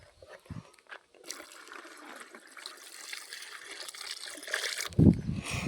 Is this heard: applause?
no